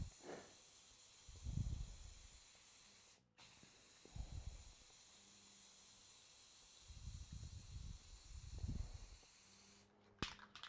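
Spray can applying gloss finish to a resin table, several short hissing bursts of spray in quick succession, close and moderately loud with quiet pauses between passes.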